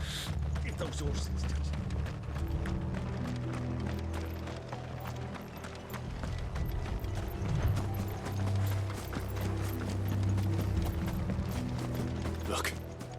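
Horse hooves clip-clopping in the video game Final Fantasy XVI, a steady run of hoofbeats with creaking tack, set against a low rumbling background and some talk.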